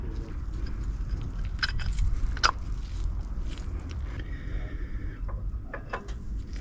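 Brake pads being fitted into the rear caliper of a 1999 BMW Z3, a series of faint metallic clicks, scrapes and taps against a quiet background, with a couple of sharper knocks in the middle.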